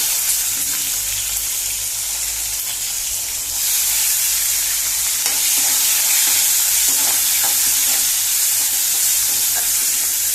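Tomatoes fry loudly in a pan for a Goan-style saar, a steady bright sizzle and hiss with occasional stirring scrapes and no voices.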